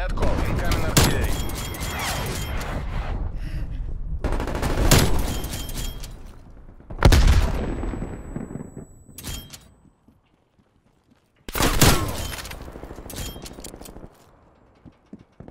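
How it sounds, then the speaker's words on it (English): Incoming artillery fire in a military video game, heard as several loud, heavy booming blasts with rumbling decay, separated by short quiet gaps, with faint creaks and mechanical noise between impacts. "Hostile artillery targeting active. Net call, incoming artillery."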